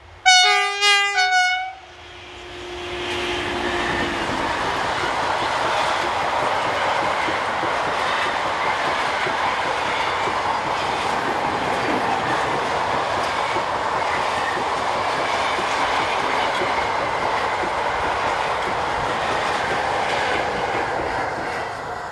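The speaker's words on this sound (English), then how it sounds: "we see number 37503 heading north with car empties" A train horn sounds loudly at first, then a long freight train of empty cars behind locomotive 37503 rumbles past on the Mâcon to Chalon-sur-Saône main line in France, with a continuous roar and clattering wheels.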